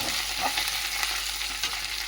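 Tempering spices sizzle and fry in hot oil with a steady, close crackling hiss, occasional stirring noises rising briefly above the continuous frying.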